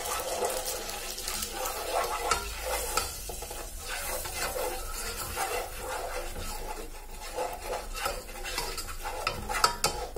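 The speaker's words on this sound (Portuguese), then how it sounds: "E vamos mexer." Instant noodle seasoning is stirred into melted margarine or butter in a pan, giving a steady scraping, sizzling stir that continues for the whole stretch without any talk.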